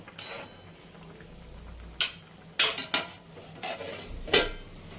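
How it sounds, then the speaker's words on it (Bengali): A small spoon stirs rasgulla in a pot, making several sharp metallic clinks and scrapes against the vessel at an irregular pace, close and fairly quiet with a soft simmering hiss underneath. "ছোট চামচ দিয়ে আবার ঘুরিয়ে দেবো"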